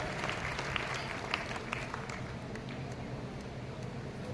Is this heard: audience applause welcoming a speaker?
yes